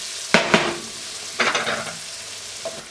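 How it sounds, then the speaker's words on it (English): Onions sizzle and fry in a pan for a chicken paprikash, with a steady hiss broken by sharp scraping bursts as a utensil stirs them, loud and close, with no talking. "Go ahead and add our onions in here. We're just going to cook these down until they're translucent."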